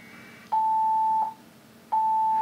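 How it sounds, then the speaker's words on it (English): Two long, steady electronic beeps at one pitch from a ham radio, each lasting under a second, with a short gap between them over a faint background hum. "The radio is beeping incessantly."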